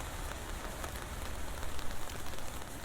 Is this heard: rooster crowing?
no